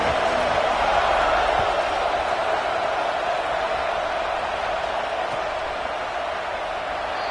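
Steady stadium roar from a college football crowd at the opening kickoff of a new season, a broad continuous wash of noise with no clear peaks.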